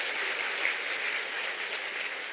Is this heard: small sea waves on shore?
no